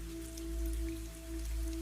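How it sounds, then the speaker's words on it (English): Rain pattering gently and steadily on a greenhouse roof, a soft continuous wash of small drops heard up close with no voices. "Rain taps gently on the greenhouse roof."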